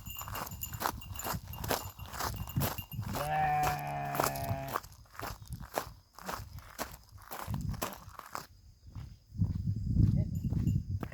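Sheep being herded into a small barn on a farm, with one clear bleat amid the shuffle of hooves and footsteps, and a person talking on and off throughout.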